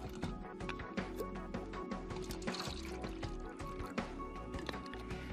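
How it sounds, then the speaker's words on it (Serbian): Water is poured into a glass until it is about half full, making a soft, continuous trickle and splash with faint clinks, fairly quiet and close. "U drugu čašu naspite vodu otprilike do pola."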